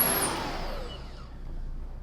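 A Hoover Hushtone commercial upright vacuum cleaner runs with a steady, loud motor drone and a whine that fades at the start, continuing without talk.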